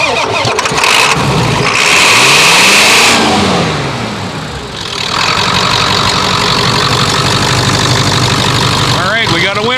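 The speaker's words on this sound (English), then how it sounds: "we got the ignition on, and we'll just jump her right off of here" A 7.3 truck engine with over 300,000 miles cranks on a jump start, catches and fires up loudly, then settles into a steady close-up run while people talk nearby.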